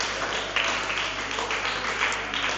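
A crowd at a youth academy boot camp gives a brief, dense burst of applause with a soft, even texture.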